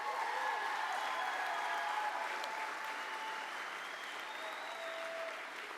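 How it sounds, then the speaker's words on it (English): Steady, sustained applause from a large convention crowd at an FFA state convention honoring a first-place winner, dense clapping holding evenly for several seconds with faint tonal sounds drifting over it. "Give her a round of applause."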